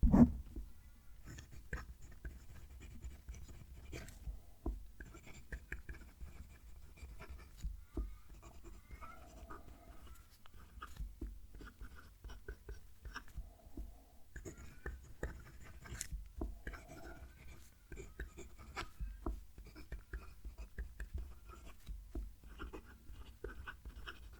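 A Nahvalur 365 fountain pen nib scratches softly across paper in close, continuous strokes with small irregular pauses, the faint writing sound heard alone over a quiet room.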